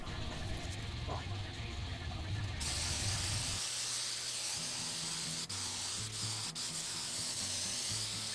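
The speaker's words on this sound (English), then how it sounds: "Just sprayed the whole thing a couple times and sanded in between coats." Sanding a clear-coated, glossy Star Wars blueprint print between spray coats, a steady close rubbing hiss running throughout with a low hum underneath and a couple of brief clicks.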